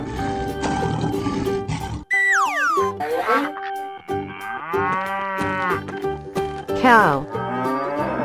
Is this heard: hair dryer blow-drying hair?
no